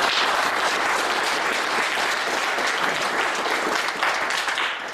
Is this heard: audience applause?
yes